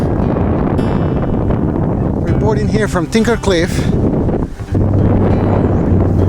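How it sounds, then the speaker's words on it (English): Heavy mountain wind on the Appalachian Trail buffets the microphone with a constant roar while a person speaks briefly through it, the gusts dropping out for a moment before returning. "Trying to enjoy the view, but it's really windy"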